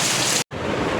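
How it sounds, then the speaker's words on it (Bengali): Heavy rain falls hard and close, a loud dense roar that cuts out for a brief moment midway before resuming at full strength. "ভালো জোরে বৃষ্টি হচ্ছে।"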